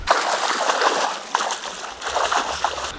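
Steady sloshing and splashing of feet wading through shallow river water in Death Hollow near Escalante, Utah, close and continuous with irregular stepping splashes.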